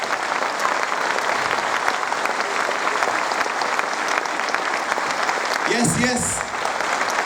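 A church congregation at a Hindi gospel service claps steadily in thanks to Jesus, a loud continuous wash of hands, with a preacher's voice calling out briefly near the end.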